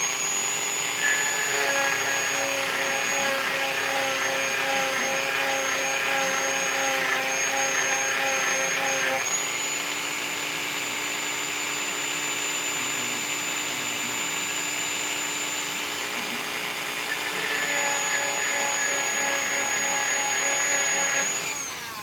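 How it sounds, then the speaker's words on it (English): A high-pitched rotary tool with a sanding wheel whines continuously while shaping a .999 silver coin ring, its tone dipping as it presses into the work and rising again when the load eases. "I can't find sanding wheels for the smaller ones"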